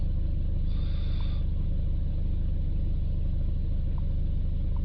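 A BMW 320d diesel engine idles steadily after a hard start, a constant low rumble with no other sounds and no voices.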